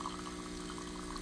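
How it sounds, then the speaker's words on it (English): An espresso machine pumps vinegar-laced water through its system during descaling, giving a steady, continuous mechanical hum with water flow underneath, unbroken and close for the whole span. "running water with vinegar in it through the machine"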